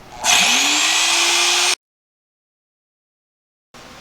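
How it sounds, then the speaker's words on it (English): A Harbor Freight Bauer close quarters drill drills out screws on a Ram 1500 step, a loud whirring burst that spins up, holds high for over a second, then stops dead before faint room noise returns. "I'm gonna try to get these drilled out now with the Harbor Freight Bauer close quarters drill"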